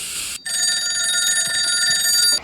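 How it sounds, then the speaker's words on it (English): A telephone ringing in a house in the horror film The Ring (2002), a sustained bright electronic ring that fills the room and starts abruptly after a brief silence, with no voices. "Not long after the tape ends, the phone rings."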